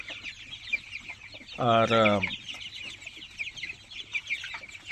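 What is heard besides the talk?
tiger chickens clucking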